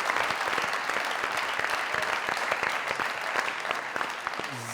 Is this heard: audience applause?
yes